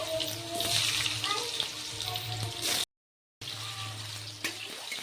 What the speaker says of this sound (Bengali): এখন তেলগুলোতে আমি আলুগুলো ভেজে নেব ভালো করে ভেজে নিই